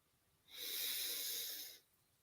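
One long, even breath of about a second, a soft airy hiss that rises, holds, then fades, quiet and close.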